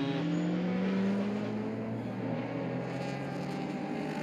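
Heritage touring race cars run on a circuit behind the safety car, a steady engine drone with a faint falling pitch, continuous and fairly close.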